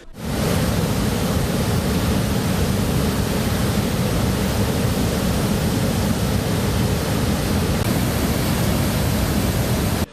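Water rushing through two opened sluice gates at the Angamu Reservoir, a continuous, dense, loud roar like a waterfall, unchanging throughout and heard alone without voices.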